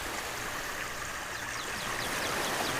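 A river current flows in a steady rushing stream for a children's story scene, a constant close watery hiss with faint bright trickles over it and no voices.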